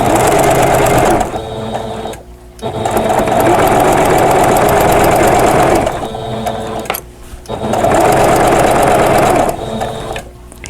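A sewing machine stitches a quilted pillow cover in loud, fast mechanical bursts, stopping briefly twice between runs of continuous rattling stitching.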